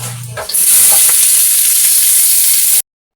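Onion and garlic hit hot cooking oil in a pan and burst into a loud, steady sizzle that runs for a couple of seconds before cutting off abruptly, after a few brief kitchen knocks.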